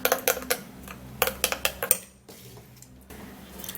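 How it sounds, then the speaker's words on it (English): Banana and Vaseline face mask ingredients being mixed in a bowl, with a quick run of clinking, scraping strokes against the dish that stop midway, followed by quieter stirring. "you mix it really well so that all of the ingredients can be mixed together"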